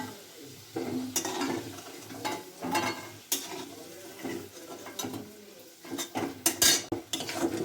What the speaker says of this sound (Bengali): আলু দিয়ে এবার মশলার সাথে ভালো করে আরেকটু কষিয়ে নেওয়া হচ্ছে।